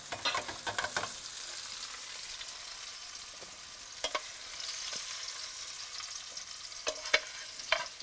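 Zucchini pieces fry in hot oil in a pan, giving a steady close sizzle with occasional scrapes and taps of a spoon moving them around, no voices.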